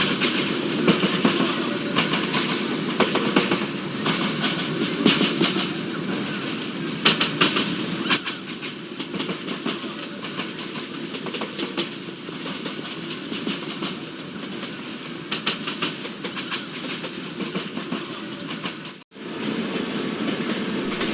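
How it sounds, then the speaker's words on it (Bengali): A Rangpur Express train in the BTZS train simulator game rumbles steadily along the rails toward Tangail station, with continuous rolling noise and faint clatter, then briefly cuts out before resuming. "আন্তনগর রংপুর এক্সপ্রেস ধীরগতিতে প্রবেশ করে গেল টাঙ্গাইল রেলওয়ে স্টেশনের এক নম্বর প্ল্যাটফর্মে"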